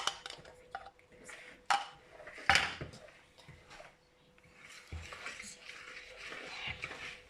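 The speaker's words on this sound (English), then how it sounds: "we'll just spread the rest of this cake mix on top" A utensil scrapes and taps against a baking dish while brownie cake mix is spread on top, with irregular close clinks and scrapes and some quieter smearing sounds.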